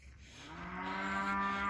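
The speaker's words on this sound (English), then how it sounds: "There she is, the cow." A cow moos in one long, steady, drawn-out call that swells slightly in loudness, heard fairly close and alone with no talking.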